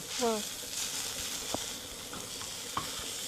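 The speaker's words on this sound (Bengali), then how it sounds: "বন্ধুরা এটা কিন্তু সুন্দর করে ভাজতে থাকতে লাগে" Drumstick leaves frying in a pan, with a steady close sizzle and a few light stirring scrapes and taps.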